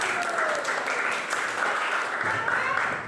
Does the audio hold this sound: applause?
yes